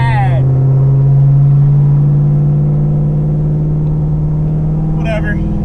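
A Camaro on 28-inch bias ply tires spins its wheels, giving a loud, steady engine drone that holds throughout, with a short tire squeal near the start and again near the end.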